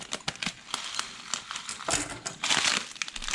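Crinkly plastic rustling with sharp scissor snips and crackles, close and fairly quiet, as a plastic food bag is cut open.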